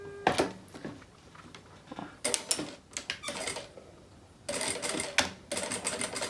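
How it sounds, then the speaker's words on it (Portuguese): A sewing machine stitches along the edges of a silicone beach bag in short bursts of rapid mechanical whirring, with pauses between each run. "Eu vou passar uma costurinha aqui nas duas beiradinhas."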